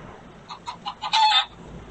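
A hen clucks in a quick series of short notes that build into one louder, drawn-out squawk, with no talking.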